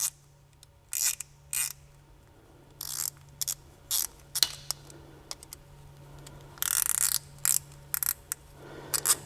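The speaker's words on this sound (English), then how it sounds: "just going to take your clamp and tighten it down until it's pretty snug" A hose clamp on a 6.7 Powerstroke fuel injector return line is cranked snug, giving short ratcheting bursts of clicks with brief pauses between them, close and crisp over a steady low hum.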